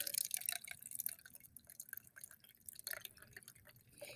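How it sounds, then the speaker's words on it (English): Water poured through a filter containing mock plastic particles into a covered container, a soft, quiet trickle with faint drips running steadily for a few seconds. "pour our water"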